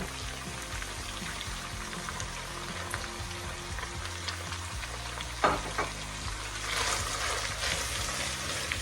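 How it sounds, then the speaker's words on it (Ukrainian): Onions fry in rendered pork fat with a steady, low crackling sizzle, plus a brief clatter of stirring partway through. "Перемішали і ще хвилин 3-4 треба смажити цибулею"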